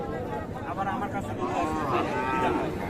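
A drawn-out cattle moo rises and falls over a couple of seconds, fairly close, with low background noise around it, at Raniganj cattle market in Dinajpur.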